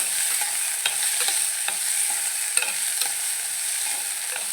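Pieces of unripe green mango fry and get stirred in a pan, a steady bright sizzle with soft scraping strokes and occasional ticks, close and continuous with no talking.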